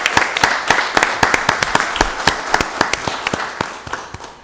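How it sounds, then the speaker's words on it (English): An audience at a county board of commissioners meeting breaks into applause, close and fairly loud, with sharp individual claps standing out in an uneven rhythm over a few seconds. "Let's give them all a wonderful round of applause."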